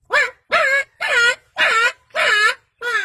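A person imitating a puppy's yelping, six evenly spaced whiny yelps, each about a third of a second long, close and clear with no other sound.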